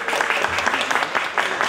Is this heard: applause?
yes